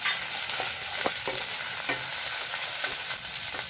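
Onions sautéing for restaurant-style chilli chicken give a steady, close sizzle in a hot pan, broken by several soft scrapes of a spoon stirring, with no voices.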